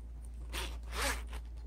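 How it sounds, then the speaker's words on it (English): A zipper on a black wallet case is pulled in two or three short, close rasping strokes, quiet and clear with no talk over it. "So it's got this really nice zipper"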